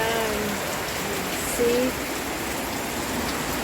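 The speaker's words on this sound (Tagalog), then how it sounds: "narinig nyo ba yan? Ang ulan na napakalakas." Heavy rain pouring down outside a store in Bacolod City during flooding: a dense, continuous hiss of rainfall on surfaces, close and steady throughout, with a brief word spoken over it.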